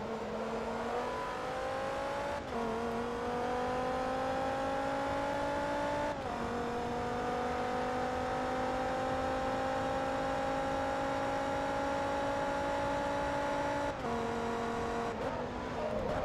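A Porsche 911 GT2 race car in Forza Motorsport 2 revs steadily at high pitch, the engine note climbing through long gears with brief dips at each of several shifts, loud and continuous.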